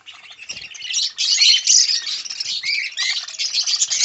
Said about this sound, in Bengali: এখানে যে বদ্যিগুলো দেখতে পাচ্ছ, এই বদ্যিগুলো ফুল অ্যাক্টিভ মুডে আছে।